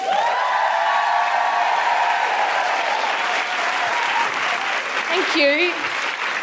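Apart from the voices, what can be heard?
theatre audience applauding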